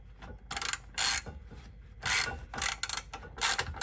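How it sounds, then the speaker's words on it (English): Socket ratchet turning bolts on a 2010 Honda CR-V sway bar, heard as several bursts of rapid clicking from the pawl separated by short pauses, close and clear with no talk. "I'm going to use this socket right now"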